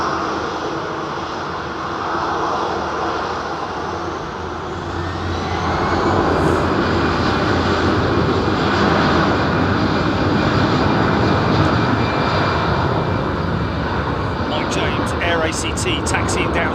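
Aircraft taxiing at London Heathrow Airport, a steady loud engine whine and roar that swells after a few seconds and holds, with someone talking over it throughout.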